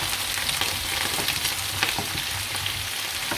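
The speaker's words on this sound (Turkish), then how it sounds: "kızarmaya başladı bile" Steady, close sizzling of chopped garlic frying in hot oil in a pan, a dense continuous crackle with small pops throughout.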